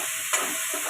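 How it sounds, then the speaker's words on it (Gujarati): Khichdi masala with onion, tomato and salt stirred in a hot frying pan, giving a steady close sizzle and hiss with a brief scrape of the spoon partway through, no voices. "હલાવી લઈશું।"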